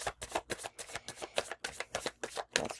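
Rune stones or cards for a reading shuffle in quick, rhythmic, close-up passes, a dozen or so soft rattling strokes in a steady pulse.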